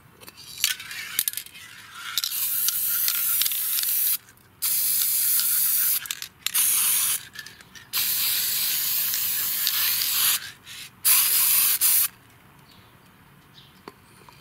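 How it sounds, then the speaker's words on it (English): Aerosol can of clear rust-guard top coat sprayed onto a mask in about six sustained bursts of loud hissing, separated by short pauses and faint handling clicks. "it's a rust guard, but it's a clear top coat"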